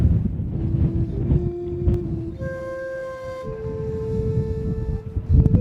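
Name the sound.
strong wind on Mount Etna volcano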